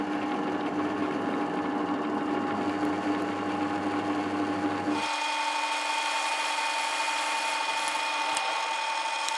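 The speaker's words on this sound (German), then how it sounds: "wir bohren das Loch jetzt so" A power drill whines steadily as it bores through thin metal, its motor tone shifting partway through, continuous and close with no talking.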